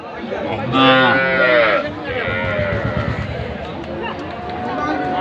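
At a cattle market at Ambari Haat, Dinajpur, a crossbred cow with her calf lets out a loud, drawn-out moo near the start, amid steady crowd chatter and nearby voices.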